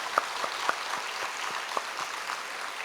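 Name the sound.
church congregation applause of thanks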